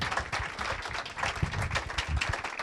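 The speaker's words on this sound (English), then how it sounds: "I think we owe a tremendous round of applause to our speakers panel." A conference audience gives a sustained round of applause for a workshop speakers panel, dense overlapping clapping that fills the whole stretch at a steady, moderately loud level.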